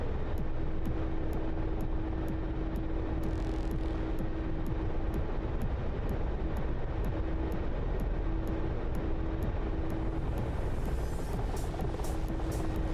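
A helicopter flying in the combat flight sim DCS World, with steady rotor and engine drone filling the whole stretch, plus a regular rhythmic ticking and a constant low hum.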